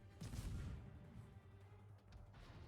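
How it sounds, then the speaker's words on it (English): A World of Warships battleship's incoming gunfire lands as a faint, distant boom followed by a low rumbling rolloff, with no voices. "Incoming fire from the Iron Duke there"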